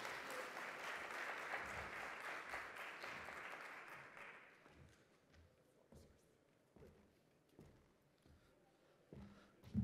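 Applause from the audience at an investment forum in the Bahamas, loud and dense at first, then thinning after about four seconds into a few scattered claps and faint room noise.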